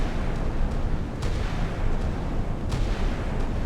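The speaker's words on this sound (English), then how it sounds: "Poor rate of fire on the Chinese naval gun." A Chinese warship's naval gun firing in the Sea Power naval combat game: a few widely spaced booming shots with a slow rate of fire, over a constant dense rumble of battle noise.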